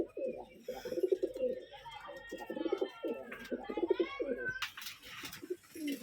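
Gerebaj pigeons on a Rajshahi loft farm coo close by in repeated low, throaty phrases with brief pauses, and a faint voice is heard in the background.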